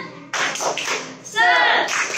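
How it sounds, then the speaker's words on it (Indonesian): Children and leaders in an online Sunday-school session clap together in a quick rhythmic spirit clap, sharp taps in bursts over about two seconds, with voices mixed in. "mari kita tepuk semangat"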